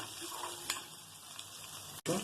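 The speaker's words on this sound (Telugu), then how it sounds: "అలాగే కొన్ని ధనియాలు, వేసుకుని బాగా ఫ్రై చేసుకోవాలి." Coriander seeds fry in a pan for tamarind rice, a faint steady sizzle with a couple of light stirring taps, then a brief cut and a louder burst of frying at the end.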